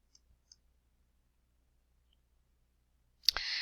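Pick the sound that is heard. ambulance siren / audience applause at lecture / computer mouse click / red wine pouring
computer mouse click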